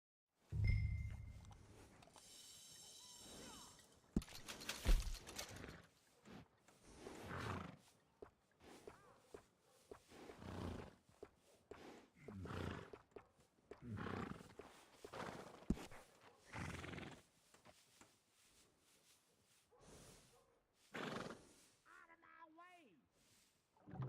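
A horse in the Red Dead Redemption 2 video game gives a quick whinny near the end, after game sounds and spoken dialogue that come and go in short bursts.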